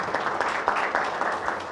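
Applause from the audience at a National Assembly policy forum, steady clapping from many hands at moderate loudness with no talking over it.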